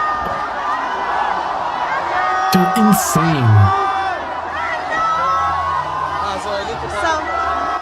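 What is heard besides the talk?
crowd cheering at a rally in a played video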